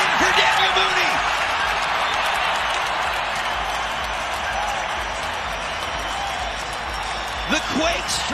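A stadium crowd in San Jose roars and cheers for a San Jose Earthquakes goal scored by their center back, a loud sustained wall of cheering that slowly eases, with brief commentary-like voices near the start and end.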